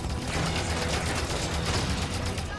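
Dense rapid bursts of cannon gunfire in Halo, a continuous barrage, loud and sustained, with mechanical clatter and no talking.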